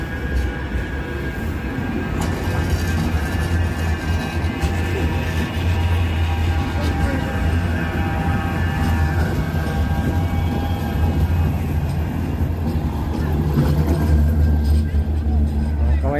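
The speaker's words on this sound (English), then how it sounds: "Oh, may train na ano, parating." A train arrives at a station during a city walk in Manchester. A steady, loud rolling rumble fills the whole stretch and swells slightly near the end.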